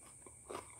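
A short, quiet crunch of a bite into crisp food, followed by a sharper snap, close up.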